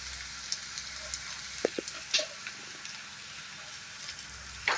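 Potato and ladyfinger (okra) pieces frying in a pan, a steady soft crackling sizzle throughout with a few sharper pops and light utensil taps, no voices.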